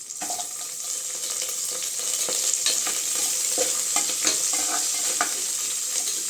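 Onions sautéing in an oil-filled pan for jeera (cumin) rice, giving a steady, close sizzle with scattered spatula scrapes and stirring clicks throughout.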